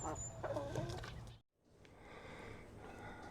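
Chickens in a backyard coop on a Deep South Texas homestead, clucking and murmuring softly at close range, with a brief quiet gap partway through before low clucks resume.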